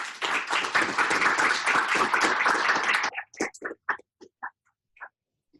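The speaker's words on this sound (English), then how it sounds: "Can we give her a big round of applause?" Applause at the close of an application workshop: dense clapping for about three seconds, then it thins out to a few scattered, separate claps before stopping.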